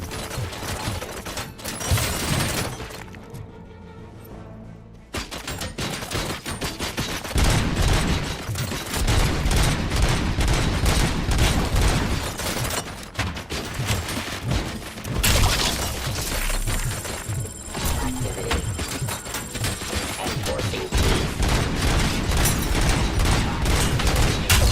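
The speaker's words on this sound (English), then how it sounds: "Bullets everywhere." Heavy, sustained gunfire and explosions in the RoboCop: Rogue City video game, dense bursts and booms with a brief lull before resuming at full intensity.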